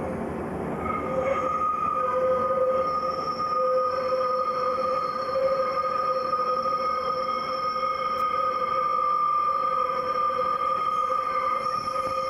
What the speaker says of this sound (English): The train is approaching the single line platform of New Holland Town Station.